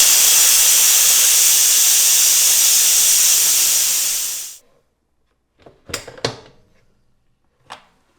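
Steam is released straight away from an electric pressure cooker holding candied orange slices, a loud, steady hiss that fades out after about four seconds. A few sharp clicks and knocks follow.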